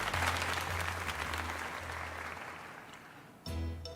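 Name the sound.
applause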